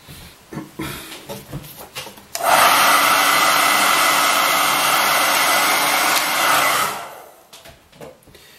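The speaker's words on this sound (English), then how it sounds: "I'm just going to get the hairdryer out and dry that to speed things up a bit." A hair dryer switches on and blows with a loud, steady whoosh for several seconds, then shuts off, with faint handling noises before and after.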